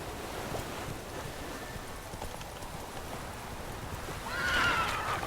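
In The Witcher 3, a horse whinnies near the end over steady clopping hooves and a windy outdoor background, all at moderate loudness.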